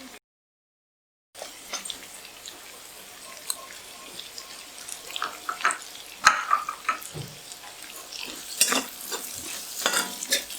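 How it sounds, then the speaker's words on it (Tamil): Onions frying in a pan for chicken noodles, a soft close sizzle with repeated scraping and clattering strokes as they are stirred, starting after a short silence. "ஸோ இதில் வெங்காயம் சேர்க்குறேன்."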